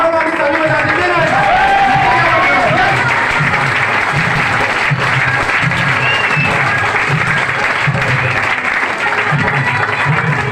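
Audience applause fills a business meeting hall, loud and sustained for the whole stretch, with music and crowd noise running underneath.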